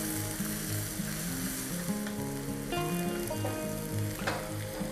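Sliced onions with curry leaves and salt sizzle steadily in a hot pan, a continuous close frying crackle with no voices.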